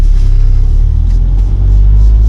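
A Lotus sports car's engine rumbles loud and close as it pulls away gently, a heavy, steady low drone with little revving.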